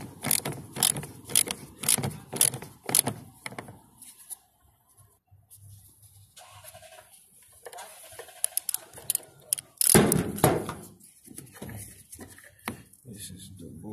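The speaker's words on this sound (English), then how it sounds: "This is my ratchet." A hand ratchet clicks in short, rapid runs at close range while working on a Toyota FJ dashboard, with quieter handling noises and pauses between bursts.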